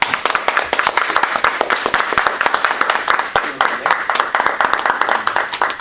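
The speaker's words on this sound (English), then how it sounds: "Keep clapping." Audience clapping at a Toastmasters speech meeting, brisk and fairly close with distinct individual claps in a steady patter for several seconds.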